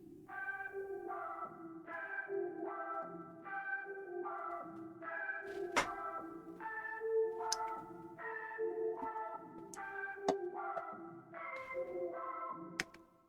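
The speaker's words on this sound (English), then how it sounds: "I did it into a key that's a little bit softer, and it has like a filter gate effect to it" A soft synth key patch with a filter gate effect plays a steady melodic line of gated, pulsing notes, with occasional sharp clicks cutting through, alone and fairly quiet.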